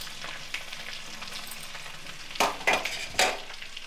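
Dried chilli flakes and chopped garlic sizzle softly in oil, then a spoon stirs the pan in four sharp scraping strokes near the end.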